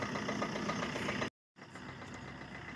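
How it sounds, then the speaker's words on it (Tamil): Vehicle engine idling while warming up before a trip, a steady close low rumble with a faint knocking pulse, broken by a brief silent gap before the idle resumes a little quieter. "வண்டி பைப்பில் வார்ம் ஆனாதான் போகிறதுக்கு நல்லாயிருக்கும்."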